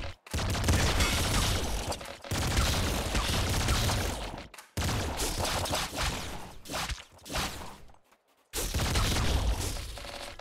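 Dense, loud bursts of gunfire from the video game Nuclear Throne come in long rapid volleys, broken by a few short gaps of near silence, with no talking.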